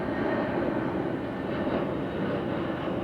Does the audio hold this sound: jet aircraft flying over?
yes